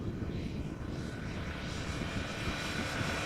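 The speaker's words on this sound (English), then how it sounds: "This airplane is a 777-200 long range." An Air Canada Boeing 777-200 long range airliner arriving at Amsterdam Schiphol Airport from Toronto produces a steady, loud engine roar with a broad rushing hiss, continuous throughout without talk.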